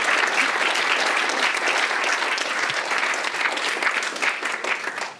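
An audience at a brain-science talk in Berlin applauds steadily and fairly loudly, the clapping sustained throughout before tapering at the end.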